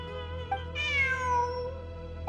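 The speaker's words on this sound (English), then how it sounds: "Look! A cat!" A cat meows once in a video game, a clear, drawn-out tonal cry rising then falling over a low steady game background hum.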